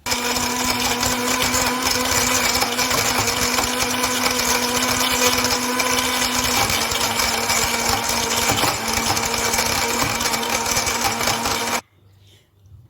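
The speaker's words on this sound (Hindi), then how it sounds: "अब इसको ब्लेंड करते हैं।" An electric blender whirs through milk with dates and raisins for a date milkshake, a loud, steady motor drone for about twelve seconds that stops abruptly near the end.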